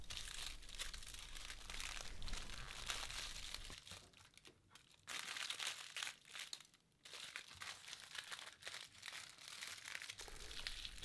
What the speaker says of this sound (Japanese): この時きっちりアルミホイルで密閉できるようにきっちりと折っていきます。